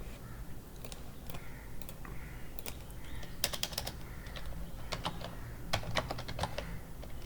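Rapid typing on a computer keyboard while entering a network switch command in a networking lab, a steady stream of close, crisp key clicks in uneven bursts with no talking.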